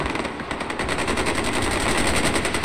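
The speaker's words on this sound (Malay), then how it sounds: "Dia tembak-tembakan" Rapid, sustained machine gun fire from the video game Far Cry 4, a dense continuous burst of automatic shots running the whole length at steady loud volume, with no talk over it.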